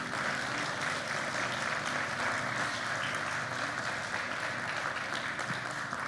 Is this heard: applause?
yes